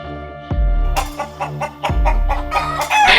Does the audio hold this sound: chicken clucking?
yes